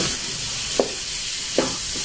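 Pork and chopped chayote stir-fried together in a pan, with a steady faint sizzle broken by two short scraping stirs.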